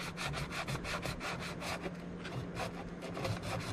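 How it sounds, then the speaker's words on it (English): A mirror surface gets sanded with a sanding sponge in a steady series of quick, close, rhythmic scrubbing strokes. "I'm just going to sand this surface a little bit to give it a little bit of tooth"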